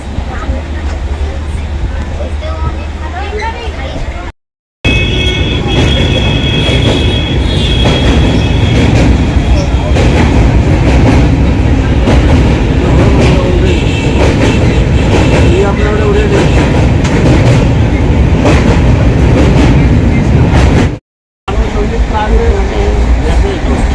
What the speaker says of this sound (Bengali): একটা লোকাল ট্রেন সবে ছাড়লো